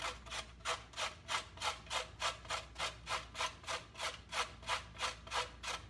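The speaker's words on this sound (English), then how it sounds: "Just grate this carrot in here." A carrot is grated by hand in a kitchen, with about sixteen even, rhythmic rasping strokes close by, steady in pace and fairly quiet, with no talking.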